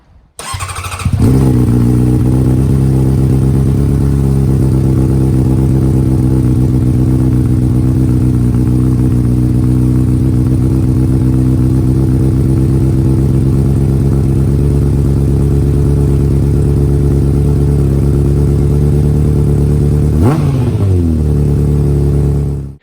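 A 2009 Honda CBR600RR fitted with a Yoshimura exhaust starts up close and loud, settles into a steady throaty idle, then gives one quick sharp rev near the end.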